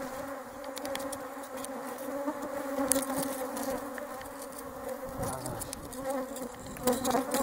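Dense, steady buzzing of many honeybees swarming close by, a continuous drone with occasional louder passes near the end.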